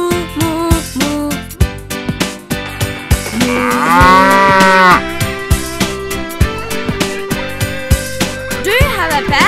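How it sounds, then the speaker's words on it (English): Mooing rings out in a children's nursery song, with a long drawn-out moo set among bouncy music and sung lines, the moo likely voiced as part of the song rather than a real cow. "He is a cow, and he says moo, moo, moo, moo."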